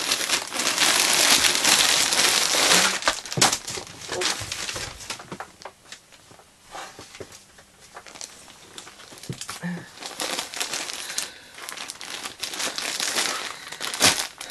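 A crinkly plastic package holding fabric being opened and handled up close, with loud sustained crinkling and rustling at first, then quieter intermittent crackles and scrunches.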